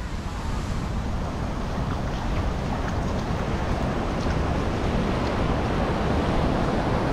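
Ocean surf at Boa Viagem beach in Recife, a steady broad wash of breaking waves mixed with wind buffeting, continuous and fairly loud with no voices.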